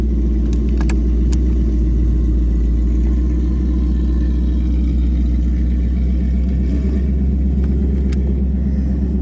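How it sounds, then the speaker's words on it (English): Twin-turbo Ford Mustang GT launching on the converter and skipping first gear: a loud, steady close-range engine roar with deep low rumble held throughout, no talk. "we're gonna bring it up on the converter, leave harder, skip through first gear, and see what happens"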